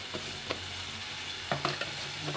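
Spices frying in oil in a pan for a curry, a steady soft sizzle broken by a few light stirring scrapes and clinks, close and fairly quiet with no voices.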